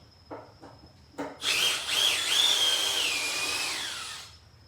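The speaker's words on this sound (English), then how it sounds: "For a drill to be able to drive a fastener of that size." A 12V impact driver sinks a large fastener into wood: a few short taps, then a loud whirring, hammering drive of about three seconds that winds down in pitch before stopping.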